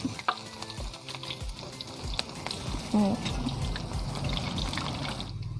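Pieces of banana stem in batter deep-frying in hot oil for a Thai fried snack, with a bubbling sizzle and crackle close by, small clinks and a brief pouring or dribbling sound, and some faint voice-like murmur in the background.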